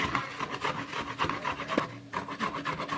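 Fresh coconut, its outer skin removed, is grated by hand for modak filling, giving a close, steady rasping scrape in repeated strokes with no talking.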